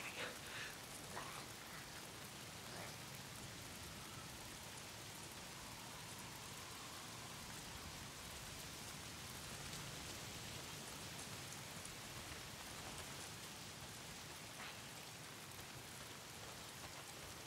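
Steady rain pours down in the open-world zombie survival game Days Gone, a dense continuous hiss of drops on surfaces filling the whole scene, even and unbroken with no voices.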